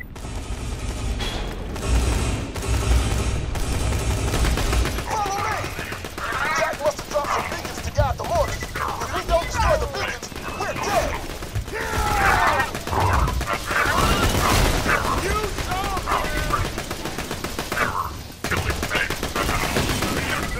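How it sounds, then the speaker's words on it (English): Mortar bombardment in a Borderlands 2 firefight, with repeated explosions and rapid gunfire blending into a dense, continuous battle din, while a voice shouts over the chaos throughout. "He's using mortars again! He's using mortars!"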